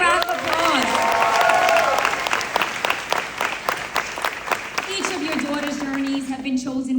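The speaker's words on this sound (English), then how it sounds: "Give it a round of applause." Crowd at a graduation ceremony claps in a round of applause, strong at first and then thinning into scattered claps as a voice starts to speak over it.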